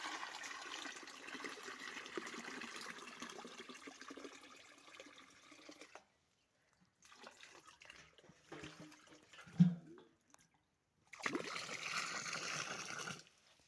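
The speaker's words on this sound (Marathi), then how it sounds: "एक नंबर असं पाणी आता भरून ठेवलंय आपण" Water is poured to fill a container outdoors, a soft gurgling stream in several bursts separated by silent gaps, with one brief dull knock partway through, fairly quiet throughout.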